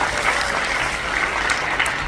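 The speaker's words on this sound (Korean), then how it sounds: "이 진보 박사님께도 여러분 감사의 박수를 보내주시기 바랍니다" Steady audience applause at a Korean talk-show panel event, a dense, even wash of clapping from a room of people lasting the whole stretch.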